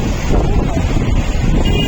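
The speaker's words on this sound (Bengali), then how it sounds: "প্রচন্ড হাওয়া দিচ্ছে" Strong seaside wind near the coast at Puri buffets the microphone in loud, continuous gusts with low roaring noise and no voices.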